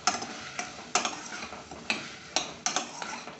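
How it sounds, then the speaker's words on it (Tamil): Pasta being stirred into gravy in a pan produces sharp scraping and clacking strokes, about seven of them at an uneven pace, each fading quickly. They are close and fairly quiet, with a faint sizzle underneath and no talking. "சேர்த்து அந்த கிரேவியோடு சேர்த்து இதை நல்லா கலந்து விட்டுருங்க."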